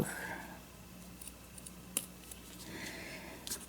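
Scissors cutting paper to make a pocket for a journal, heard as a few quiet close snips and rustles against faint background noise, with no talking.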